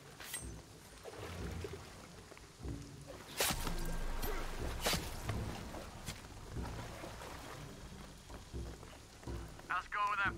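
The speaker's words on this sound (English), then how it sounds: "the rain is gonna flood this" Heavy rain pours steadily in the video game Shadow of the Tomb Raider, with loud splashing bursts and rumbling impacts over a constant wet hiss, and a voice near the end.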